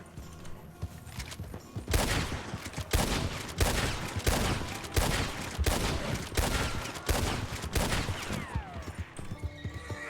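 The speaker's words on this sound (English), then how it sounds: "Those are cool spitty bullet sounds there." Rapid volleys of gunshots crack out across a RedM Red Dead roleplay shootout, loud and dense bursts repeating for several seconds with horses faintly stirring beneath.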